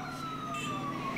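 A fire truck siren wailing as it passes along a street during a Christmas event in Carlos Paz, its rising and falling tone heard over traffic noise, moderately close, with no talking.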